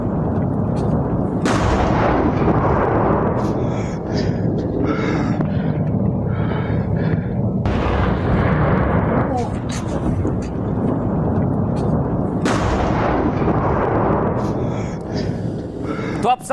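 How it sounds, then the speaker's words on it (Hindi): Bombardment and artillery fire from air strikes along the Durand Line, heard as heavy repeated booms and rumbling blasts in a dense, continuous din, with loud crashes recurring every few seconds and a brief aircraft-like roar. "खबर है कि डूरंड लाइन पर बमबारी शुरू हो गई"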